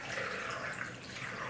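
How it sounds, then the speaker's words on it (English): Water runs steadily into a pot of chicken bones for bone broth, a continuous close splashing rush with no talk. "I'm just going to cover my bones with water"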